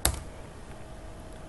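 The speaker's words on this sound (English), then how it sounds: "hit F9 on your keyboard" A single key press on a computer keyboard, one sharp near click at the start followed by quiet room hiss.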